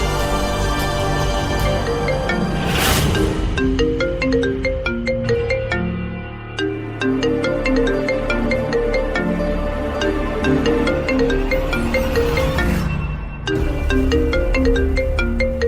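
An electronic phone ringtone plays a bright repeating melody loudly, cycling through its tune with a brief pause partway, no voices alongside.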